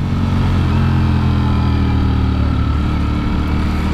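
Ducati Streetfighter V4 SP engine under way, a steady loud droning roar with a strong low rumble held at a fairly even pitch throughout, close and unbroken, as if recorded from the moving bike.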